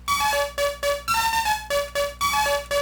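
A bright retro synth lead made in the Phase Plant synthesizer pulses in a steady, fast rhythm of repeated notes, each swelling and cutting off as LFO modulation makes the tone wobble; loud and clear, no voices.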